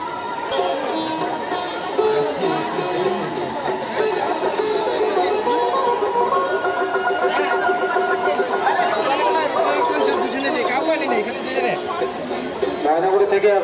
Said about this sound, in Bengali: বন্ধুরা দেখতে পাচ্ছ প্রথম দিনে কি ভিড়